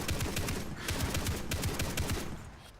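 Rapid turret gunfire from a shooter video game, with rhythmic bursts of loud, dense shots repeating steadily and without pause for nearly three seconds.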